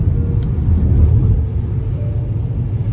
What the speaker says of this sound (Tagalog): Nagda-drive papuntang Tagaytay.